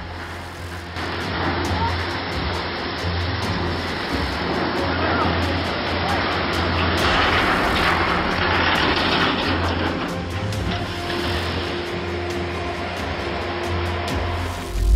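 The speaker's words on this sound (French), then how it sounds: "La coque de ce cargo de 68 mètres s'est fissurée et l'eau est entrée à l'intérieur." Water gushes steadily into the cracked hull of a 68-metre cargo ship, a loud, continuous roaring rush with no pauses.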